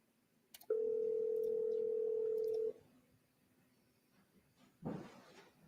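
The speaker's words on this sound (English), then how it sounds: "Whose phone is ringing?" A single steady electronic phone tone sounds for about two seconds in a quiet courtroom, followed by a brief shuffling thump; no one speaks.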